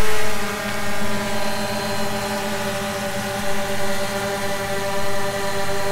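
A DJI Phantom drone fitted with landing gear skids lifts off and flies, its rotors giving a loud, steady, multi-toned whine that swells and dips slightly as the throttle shifts.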